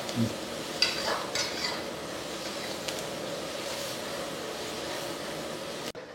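Onions fry in a pan for aloo palya, cooking until reddish: a soft, even sizzle with occasional utensil clinks and stirring, fairly quiet and without speech.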